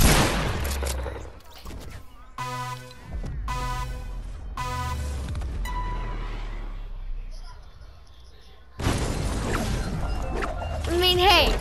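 Rapid gunfire bursts from a Fortnite creative-mode 1v1 fight, several loud clustered volleys with gaps between, heard alongside excited player chatter.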